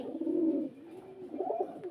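Lotan pigeons coo softly nearby, a couple of low, throaty rolling calls with a brief pause between them.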